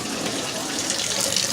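Hot water runs steadily from a kitchen sink tap beside a Hotpoint dishwasher, a continuous close hiss of flowing water with no speech.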